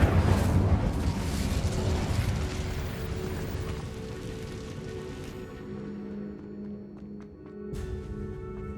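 Incendio fire spell in Hogwarts Legacy, a loud roaring, crackling rush of flame like pouring rain that fades over several seconds, with a ringing tone and soft pops near the end; no talking.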